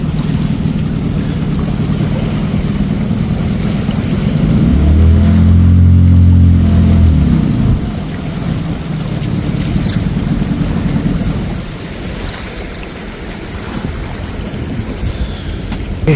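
A fishing boat engine running on the sea, steady low droning hum with wind and water wash, swelling louder in the middle before easing back, no talk.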